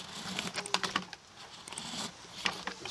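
A utility knife blade rides along the groove of vinyl siding during a corner repair, making a faint, close scratchy scraping with small clicky ticks that continues through the short stretch without speech.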